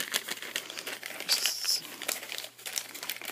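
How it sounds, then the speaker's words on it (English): Paper being folded and creased by hand into a sack, with steady close crinkling and soft rustling scrapes throughout and little else in the background. "I'm going to fold it over."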